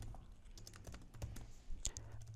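Typing on a computer keyboard while entering HTML code, steady soft key clicks close by with a few sharper taps, no talking.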